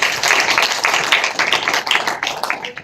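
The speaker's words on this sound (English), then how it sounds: "Let's give her a hand of applause." Applause for a regional council official at a memorandum signing ceremony, many hands clapping close and lively for a few seconds, uneven and crisp.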